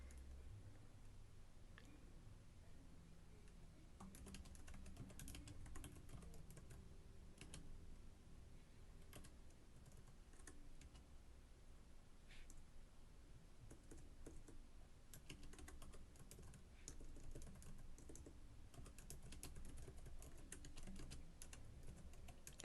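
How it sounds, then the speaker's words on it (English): Steady, continuous typing on a computer keyboard at a home live-stream setup, a dense run of quick key clicks at close range with no talking, a low background hum beneath. "I'm typing them out so I can put them in the chat."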